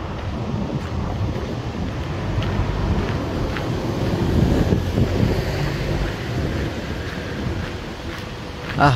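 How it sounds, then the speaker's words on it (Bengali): Steady broadband rush of flowing water from a nearby waterfall in Helsinki, Finland, with gusty wind buffeting the microphone throughout. "আমার পিছনে এই ওয়াটারফলটা, খুব সুন্দর পানির সাউন্ড পাচ্ছি।"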